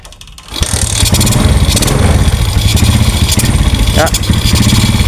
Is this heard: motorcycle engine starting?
yes